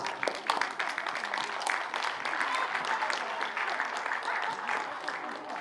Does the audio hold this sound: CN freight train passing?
no